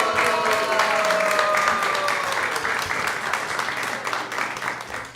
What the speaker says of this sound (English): Round of applause for Devaprastha.